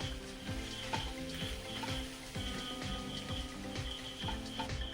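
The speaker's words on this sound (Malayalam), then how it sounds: "നന്നായി ഇളക്കി കൊടുക്കാം. ഇതേപോലെ നല്ലപോലെ മിക്സ് ചെയ്തെടുക്കാം." Egg snack filling being stirred in a hot pan, a steady faint sizzle with repeated soft scraping strokes of the spoon at a regular rhythm.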